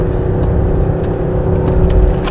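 Volvo S80 2.4 D5 diesel sedan pulling hard at full throttle, a loud steady engine drone with low rumble and a faint whir, heard from inside the cabin.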